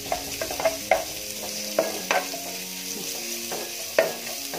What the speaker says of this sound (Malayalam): ലൈറ്റ് ബ്രൗൺ ആവുന്ന വരെ നമുക്കിതൊന്ന് വഴറ്റിയെടുക്കാം